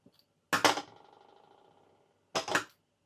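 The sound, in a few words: pinking shears cutting fabric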